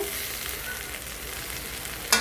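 Curry with bottle gourd peel is stirred in a cooking pot over a steady sizzling hiss, ending with one sharp scrape or clank near the close.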